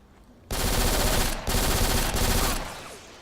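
Sustained automatic fire from a P90 submachine gun in a first-person shooter video game, loud and continuous in long bursts with one brief break and a cut-off near the end.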